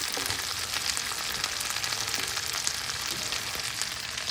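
Beans with chorizo cook in a pan over medium heat with an even, dense crackling sizzle that holds steady throughout, with no voices.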